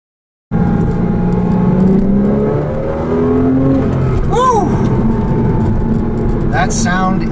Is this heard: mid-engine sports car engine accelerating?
yes